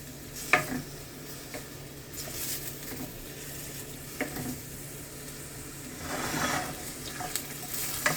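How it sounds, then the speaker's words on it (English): Shrimp with onion, herbs and jerk seasoning sautéing in a pan, a steady low sizzle with occasional scraping stirs and utensil clinks, close and moderately quiet, no talking. "You just want to saute that for about 3 minutes to get all of those potent juices out of these herbs."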